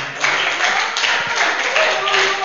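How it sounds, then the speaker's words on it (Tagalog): A church congregation claps in praise of the Lord, a dense, loud, sustained round of applause that fills the room, with voices mixed in. "Palakpak muli sa ating Panginoon."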